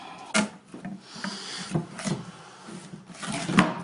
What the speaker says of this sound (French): et insérer la porte guillotine